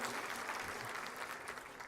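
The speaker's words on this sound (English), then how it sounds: "let's give them a applause" A crowd applauds with steady, dense clapping at a 2019 State of the City address, fairly distant and without speech.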